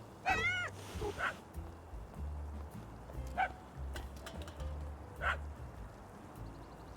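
A dog barks a few times in the video game Little Kitty, Big City, spaced irregularly over a steady low game ambience, with a cat meowing at the start.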